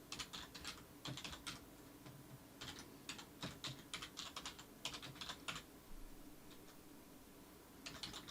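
An email address is typed on a computer keyboard as quick, faint clicking keystrokes in irregular runs and short pauses, close up in a quiet room with no talking.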